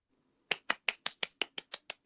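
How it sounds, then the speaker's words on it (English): A run of ten crisp finger snaps in quick, steady succession, close and fairly loud, after a brief near-silence. "Did you hear my applause there?"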